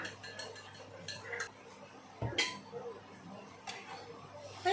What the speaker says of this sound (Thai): ค่อยๆคนนะคะ คนเบาๆนะคะ เปลือกเขาจะได้ไม่หลุดนะคะ